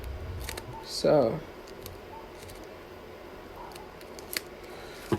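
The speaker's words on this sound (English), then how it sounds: "you can just cut the sides off like so" Scissors cut the sides off a small plastic bag up close, one short crisp snip and rustle followed by faint handling clicks, while someone speaks briefly.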